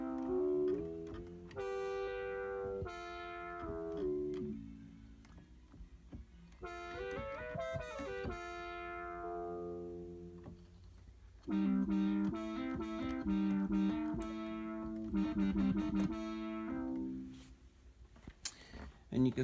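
A Moog Sub37 analog synthesizer preset plays bright, bending lead phrases with sweeping harmonics and pauses between notes, clear and close with no voice over it.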